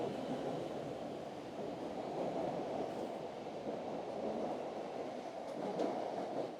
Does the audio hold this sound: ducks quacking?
no